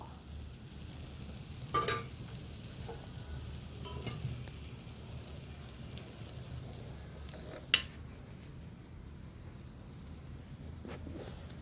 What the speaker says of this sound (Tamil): இப்போ தான் குழிப்பணியாரம் திருப்பி போட போகிறோம்.